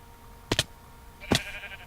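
Two short Minecraft sheep bleats sound clearly and close by, a quick double call followed by a longer wavering one, over quiet background.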